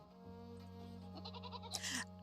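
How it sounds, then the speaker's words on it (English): Goat bleating in the video game Reka, a short nasal bleat rising over a steady tonal music bed, fairly quiet and without talk. "We might have found the baby goat."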